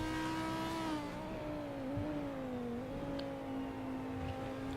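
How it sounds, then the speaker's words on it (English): A V10 race car engine at Daytona holds a steady, loud, sustained drone with strong harmonics, its pitch sagging slightly and wavering through the run, with no one talking. "this car has a V10, so this one sounds a lot better in my opinion"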